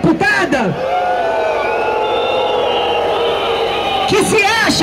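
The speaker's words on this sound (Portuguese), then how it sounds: "Então eu quero pedir uma vaia para essa deputada" Protest crowd at a firefighters' demonstration responds loudly with sustained jeering and shouting, a dense, steady roar of many voices filling the space from start to finish, with a few louder yells near the beginning and end.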